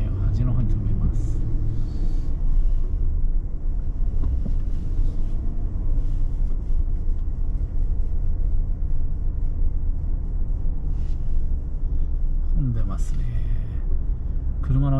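A car pulls slowly into a space at the far end of a crowded parking lot at Mitsuwa Marketplace near New York, heard from inside as a steady low engine and road rumble with some wind buffeting.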